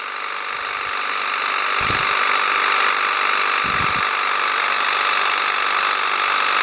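A battery-powered garden sprayer motor with a draining battery whines steadily at high pitch, with a few low thumps mixed in; the drone sounds strained and uneven.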